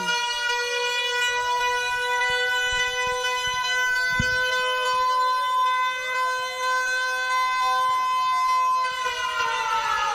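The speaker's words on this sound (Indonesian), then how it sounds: "Dengarkan bunyi sirene" An earthquake warning siren sounds during a school disaster-preparedness drill, a loud continuous wail whose pitch rises and falls in slow sweeping cycles, steady throughout without pause.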